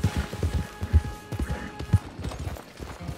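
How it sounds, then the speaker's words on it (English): A horse's hooves clip-clop in the western video game Red Dead Redemption 2, a steady run of close, loud thuds under a thin sustained tone. "I'm not gonna sell Hamish horse, guys."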